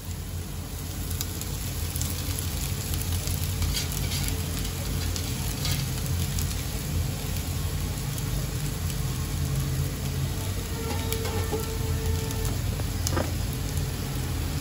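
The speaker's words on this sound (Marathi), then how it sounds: "मी पोहा जो भिजवलेला आहे तो घालून घेते," Soaked poha sizzles and fries in a hot pan for Khandeshi kande pohe, a steady, close, dense crackle with soft stirring scrapes running unbroken throughout and no talk.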